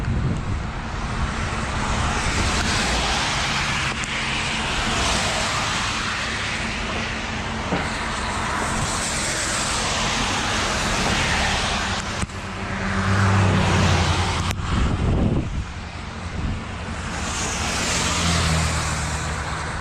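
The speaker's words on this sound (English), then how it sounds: "it's the noise of all the vehicles" Continuous broadband rumble of passing vehicles, steady and fairly loud, with swells as heavier traffic goes by and no voices.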